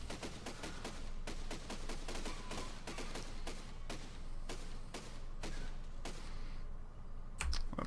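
A machine gun built in the Besiege video game fires rapid, dense bursts of loud shots with short pauses, a continuous rattling fusillade with no speech.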